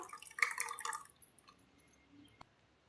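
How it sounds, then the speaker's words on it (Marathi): Water being poured into whisked curd to make spiced buttermilk, a short splashing trickle in the first second that fades into a quiet room with a faint clink near the end. "आता याच्यावर देखील पाणी ओतून घेते जरासं"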